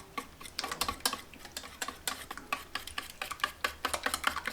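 Eggs with salt and pepper are beaten briskly in a bowl for a masala omelette, a fast, irregular run of light clinking and tapping strokes, close and fairly quiet, with no talking.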